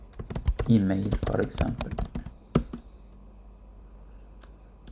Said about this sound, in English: And here I will just type my